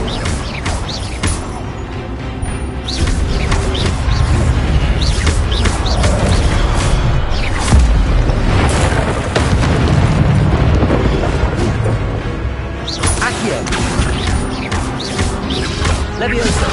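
Incendio fire spell blasts in Hogwarts Legacy: heavy, repeated booms and crashes, loud and close, over dense continuous combat noise with no pause.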